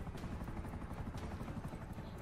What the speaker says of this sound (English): I think the chopper's breaking down